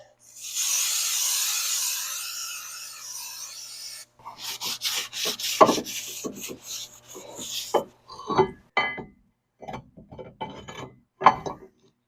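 Brake cleaner sprayed onto the rear brakes of a Volkswagen Jetta TDI, a steady hissing spray of about four seconds, followed by scraping and brushing with short pauses.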